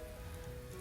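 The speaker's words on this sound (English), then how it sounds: "The rain kind of caught up with us at this point." Heavy rain falls in Tokyo during a typhoon weather warning, a dense steady patter of drops on surfaces, continuous and even with no voices.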